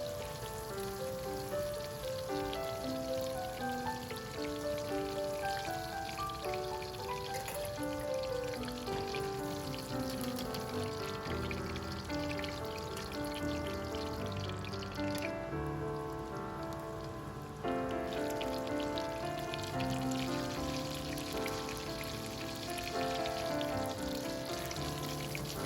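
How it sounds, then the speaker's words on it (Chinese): Oyster mushrooms deep-fry in a pot of oil over high heat, giving a steady, dense, rain-like crackle and bubbling hiss that runs unbroken for nearly half a minute, with soft music underneath. "调到大火，再炸大约10秒钟。"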